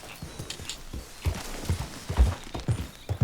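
Horse hooves clip-clop in Red Dead Redemption 2, a run of heavy thuds close by with a faint whinny-like tone, over a soft ambient game background.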